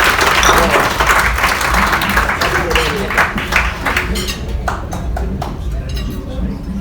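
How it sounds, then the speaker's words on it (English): At a live corporate mentalist show, the audience breaks into loud, close clapping that tapers off within a few seconds, with voices talking over it. "Give her a round of applause"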